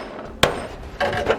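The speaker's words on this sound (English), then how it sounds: "We're going to use a large socket and a smaller socket as a punch to just punch right on through." A socket driven as a punch through sheet metal of a 2014 vehicle frame, struck with a hammer during a hidden trailer hitch install: one sharp metallic whack followed by a couple of duller knocks, close and loud.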